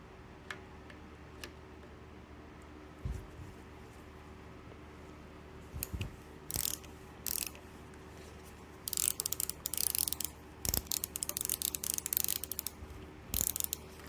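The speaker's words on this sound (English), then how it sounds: "let's get this bobbin winder off" Small metal parts being worked loose while the bobbin winder is removed from a Minnesota L sewing machine, sparse clicks and ratcheting screwdriver bursts, close up, growing busier toward the end.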